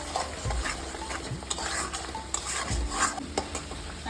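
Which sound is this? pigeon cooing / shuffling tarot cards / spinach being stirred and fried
spinach being stirred and fried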